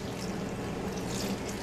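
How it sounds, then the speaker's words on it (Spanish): Warm water pours steadily from a cup onto masa harina in a bowl, a continuous soft splashing gush that stays even throughout and sounds close. "Le vamos a poner una taza de agua tibia a esto."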